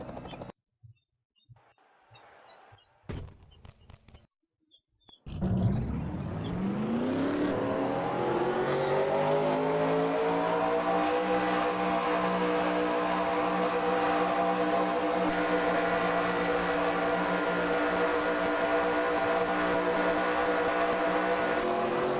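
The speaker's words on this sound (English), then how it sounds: "Drivers, start your engines!" Dirt race car engines in the ARWLS UPS Dirt Car Series in California crank with a few sputters, then fire up and rev together into a loud, sustained roar that holds to the end.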